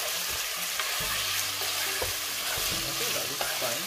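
Meat browns in a pot for Filipino arroz caldo, giving a dense, continuous close sizzle with occasional stirring scrapes and a brief spoken remark over it.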